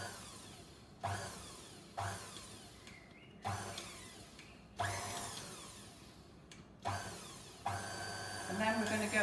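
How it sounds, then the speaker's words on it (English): An electric mixer on slow speed whirs in short bursts, starting and stopping about seven times in a steady pattern. The motor sounds close, and a voice speaks near the end. "Drop the mixer. And then we're just going to start it on slow."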